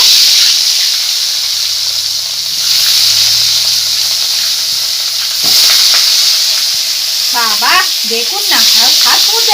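Pieces of katla fish fry in hot oil with a steady, loud sizzling hiss that holds throughout, a few sharp crackles and pops near the middle, and a voice talking briefly toward the end.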